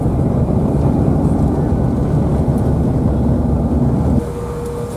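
A loud, steady roar of rushing air and engine noise heard from inside a United CRJ700 cabin as it lands hard at Aspen, easing abruptly to a quieter hum near the end.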